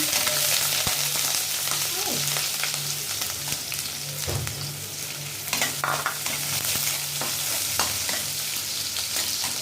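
Onion and garlic frying in a frying pan for lentil bhuna, a dense continuous sizzle with occasional stirring clatters and scrapes, close and even, with no voices.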